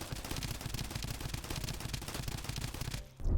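A poison-themed 3-round-burst gun fires rapidly in the video game Escape from Duckov, a dense rattle of quick repeated shots that stops abruptly near the end.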